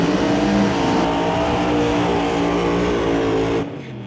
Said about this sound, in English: High RPM burnouts